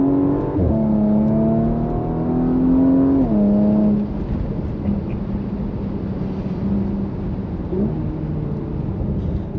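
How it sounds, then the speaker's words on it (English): A car engine drones steadily and then drops in pitch as the driver brakes and downshifts into third and then second, leaving a low exhaust burble rumbling from the rear with no talking. "On the brakes, down into third, down into second. Oh, a little burble from the back."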